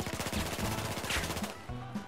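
Rapid automatic gunfire in Battlefield 4, a fast rattling burst of shots that carries on steadily before stopping near the end, moderately loud and with no voices.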